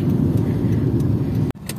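A car creeps slowly forward toward a barrier gate, giving a steady low engine and road rumble that cuts off abruptly near the end, with a quieter tail after.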